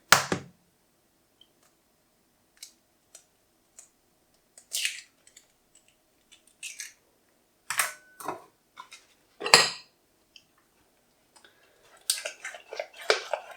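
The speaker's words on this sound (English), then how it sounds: "So mix that final egg in" The last egg is stirred into brownie batter: sparse scraping and tapping of a utensil against a bowl in irregular bursts, with quiet gaps between strokes.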